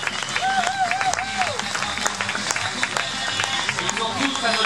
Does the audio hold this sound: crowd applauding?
yes